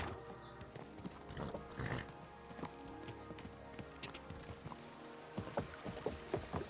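Horse hooves clip-clop in Kingdom Come Deliverance 2, a steady run of sharp knocks at moderate loudness over a busy game backdrop, with no talk.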